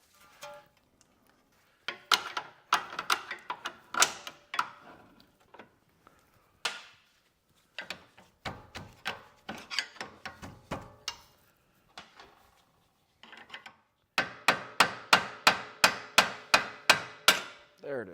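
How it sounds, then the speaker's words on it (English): Metallic knocks and clinks ring out as a bolt is worked free from a BMW E39 540i thrust arm, coming in irregular bursts before a fast run of evenly spaced taps at the end. "with our sway bar loose, we can wiggle it around to get our bolt out"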